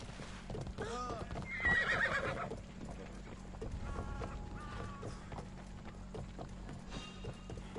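Horse from the video game Assassin's Creed Odyssey whinnying loudly near the start, then trotting hooves clip-clopping in a steady rhythm, with game ambience and a voice speaking quietly underneath.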